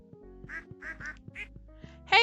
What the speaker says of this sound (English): Pet some of the ducks in here.